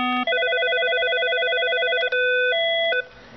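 Keypad tones from an eMetrotel 1140E desk phone dialing a feature code: a short beep, then a long sustained dual tone, a brief gap, and two more distinct tones, clear and close in a quiet room.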